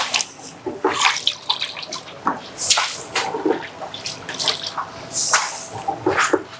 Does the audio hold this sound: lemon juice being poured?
yes